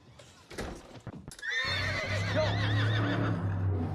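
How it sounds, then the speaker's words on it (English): After a few sharp knocks, a horse lets out a long, loud, wavering whinny that rises and falls close by and carries on to the end. "There's a horse in your house."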